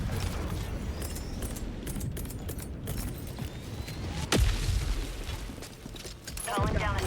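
A machine gun sentry being called down in the Helldivers 2 video game: dense whirring and clanking mechanical noise with creaks and ratcheting, broken by a sharp, loud impact near the middle, then continued rattling mechanisms close by.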